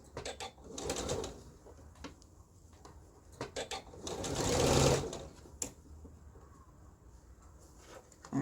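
Sewing machine stitching a blouse seam, heard in short close bursts of fast rattling, one longer run in the middle, separated by pauses with faint background sounds.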